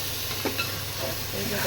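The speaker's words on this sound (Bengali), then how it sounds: "এবার এখানে জলটা দেওয়া হচ্ছে।" A steady, loud hiss of steam and sizzling rises as water is poured into a pan of frying rice for basanti pulao, continuous from start to finish with faint rumbling underneath.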